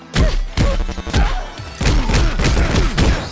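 Bombs explode in the beat-'em-up game Double Dragon Gaiden: Rise of the Dragons, a rapid string of loud, close booms and thuds hitting in quick succession with almost no gap between them.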